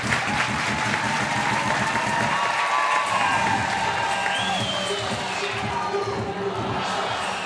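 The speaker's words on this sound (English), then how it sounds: "The crowd's getting into it." Crowd at a FIBA 3x3 World Tour finals dunk contest in Debrecen, 2023, cheering and applauding loudly throughout, with a commentator's voice running under the noise.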